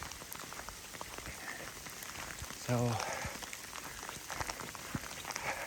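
Rain and hail patter steadily on a river hiking trail, a dense hiss of drops on the ground and gear throughout; a voice speaks briefly over the constant wash.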